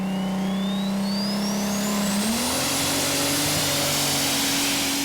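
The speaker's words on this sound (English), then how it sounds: "Let's see if he's put it all together correctly in the workshop and the tractor fires up." A competition pulling tractor at a Eurocup tractor pulling event in Brande, Denmark fires up and revs, its loud engine note climbing in pitch and holding a steady high roar with a rising whine, close and alone.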